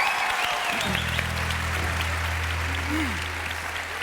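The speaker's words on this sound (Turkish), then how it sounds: "Konuklarımıza toplu bir alkış alalım şöyle başlayalım." Steady applause from an audience fills the whole stretch, dense and continuous, with a few voices and a low hum underneath.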